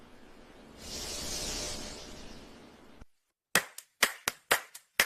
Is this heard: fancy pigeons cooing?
no